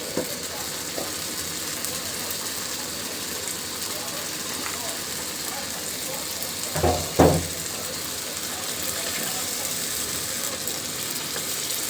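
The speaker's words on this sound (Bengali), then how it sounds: "এখন দিয়ে দিচ্ছি এর ভিতরে ধুয়ে রাখা মাংসগুলো।" Washed beef goes into hot spiced oil for a beef and potato curry, giving a steady close sizzle, with a brief louder clatter and burst of frying near the middle.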